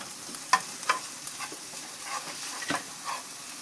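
Onions frying in a pan with salt and ginger garlic paste give a steady soft sizzle, broken by several sharp clinks and scrapes as a utensil stirs them.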